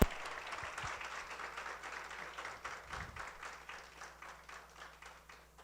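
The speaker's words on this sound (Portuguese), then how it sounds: "Palmas, né?" Audience applauds after a lecture at an innovation symposium in Brazil: steady, moderately loud clapping from a seated crowd that continues for several seconds and slowly fades, with no voices over it.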